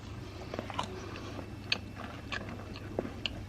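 Someone bites into and chews a cheap caramel waffle, with close, soft crunches and steady mastication over a quiet background hum.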